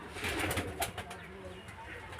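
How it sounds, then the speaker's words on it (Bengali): A single male pigeon of about a kilo coos amid a flock at a pigeon sale, soft repeated burbling calls fairly close, with faint background noise. "একটা কিলো নর পায়রা আছে সিঙ্গেল"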